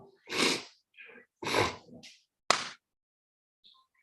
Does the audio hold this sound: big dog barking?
no